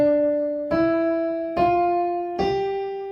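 Four slow, separate piano notes step upward from middle C, each struck cleanly and left to ring and decay before the next, played alone with no voices.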